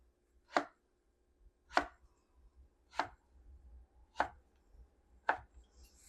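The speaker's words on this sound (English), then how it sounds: "I'm going to look over and make sure I make even slices" A knife slicing a mango into even slices on a cutting board, five crisp, evenly spaced cuts about a second apart, close and clear in an otherwise quiet room.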